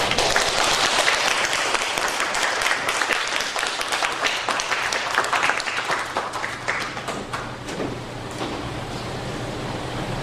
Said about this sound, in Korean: 성기수 번역가님을 박수로 맞으셨으면 감사하겠습니다